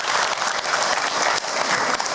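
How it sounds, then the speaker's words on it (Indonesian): An audience at a Ramadan religious lecture on tarawih prayer claps together, a loud, dense and steady applause lasting throughout. "Tepuk tangan untuk kita semua."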